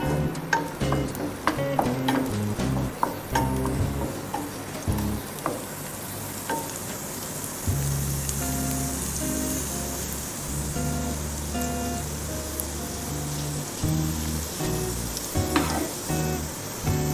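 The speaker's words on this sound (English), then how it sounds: "as the garlic gets little cracking, we will add the" Garlic and then onions frying in a pan for an eggplant parmigiana, giving a busy crackling sizzle with spatula clatter and scraping. It settles partway through into a steadier, softer frying hiss with occasional clinks and no talking.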